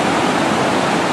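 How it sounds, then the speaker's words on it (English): Waterfall roaring steadily at the toe of Maka Falls in Guyana, where the Guyana River pours across exposed granite bedrock; a loud, continuous broadband rush close by, with no voices. "I'm standing on the toe of Maka Falls"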